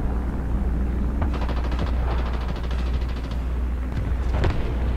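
Rapid machine-gun fire in a World War II video game aimed at a Panzer tank, several quick rattling bursts over a constant low engine rumble.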